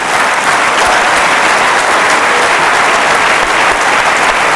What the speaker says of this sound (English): One more round of applause for the FIFPro FIFA World 11.